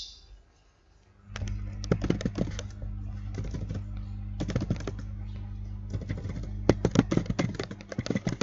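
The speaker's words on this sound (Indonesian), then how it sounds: "Berikutnya di sini kita akan mengetikkan dulu identitas siswa." Fingers type on a computer keyboard, starting after a brief quiet moment, with close, quick bursts of clicking keys separated by short pauses.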